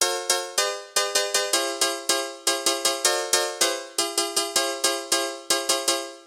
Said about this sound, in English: There's also this background piano. It kind of sounds like this.